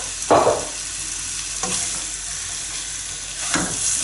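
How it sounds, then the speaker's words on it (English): Steady hissing sizzle of beef frying in hot oil, close by, with a few brief stirring scrapes. "Oh good, got a bit of sizzle."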